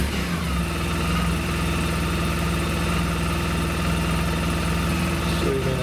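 A Suzuki Burgman scooter engine idling with a steady, even drone and low hum, close and constant throughout without any revving.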